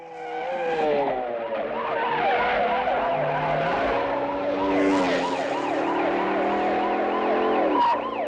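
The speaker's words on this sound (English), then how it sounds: "an interesting chase ensues, car versus motorcycle, without any music, just all natural sounds" A car-versus-motorcycle chase from the film Rambo, with no music: engines rev and whine continuously, rising and falling pitches sweeping through, tires skidding, loud and busy for the whole stretch.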